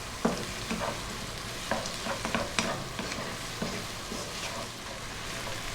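Chillies sizzling in a pan over fairly lively heat with seeds, salt and pepper, a steady close fry with scattered spits and pops as they are stirred, and no talking.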